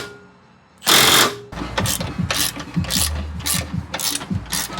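Ratchet tightening bolts while a car sway bar is reinstalled on a project car, a loud burst of fast clicking followed by several shorter ratcheting runs, close and distinct.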